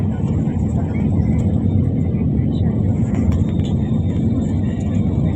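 Airplane cabin on the landing approach into Manila: a loud, steady roar of engine and air noise fills the cabin throughout, with a faint announcement voice in the background.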